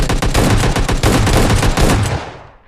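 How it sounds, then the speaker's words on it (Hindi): Rapid gunfire in PUBG Mobile Lite rattles in a dense burst of shots, loud and close, then fades away with a short decaying tail. "उधर से मेरे को गन शॉट की आवाज़ आ रही थी इधर की तरफ"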